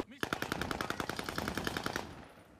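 A single rapid automatic burst rattles off in Warzone, about twenty evenly spaced shots over two seconds, loud and close, then fading into a short tail.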